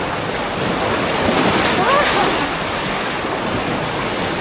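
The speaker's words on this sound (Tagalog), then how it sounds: "Grabe, lakas ng alon." Strong ocean waves surge and crash continuously during island hopping at Crystal Cove, Boracay, a loud broadband roar mixed with heavy wind buffeting the microphone and a faint brief voice in the background.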